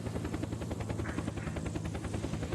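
A helicopter in the video game Unturned is heard up close, its rotor beating in a steady, loud rapid rhythm over a deep engine drone, with no other sound.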